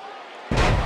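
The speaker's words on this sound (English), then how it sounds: "And she slams her back down." A wrestler is slammed hard onto the mat in the video game WWE 2K18, a sudden loud thud with crowd noise that cuts in halfway after quieter commentary-style background.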